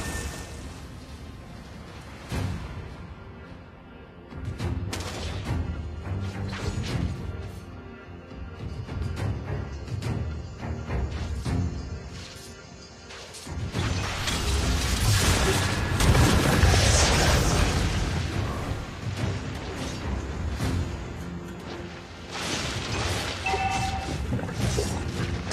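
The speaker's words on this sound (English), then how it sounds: "Red team turret has been destroyed!" Turret being destroyed during a Mobile Legends match, with repeated crashes, booms and whooshes over game noise, building to a loud dense stretch of explosive impacts midway.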